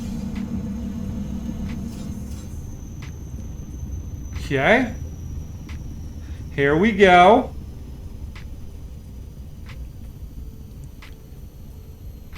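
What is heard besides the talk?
aircraft engines shutting down in a flight simulator video game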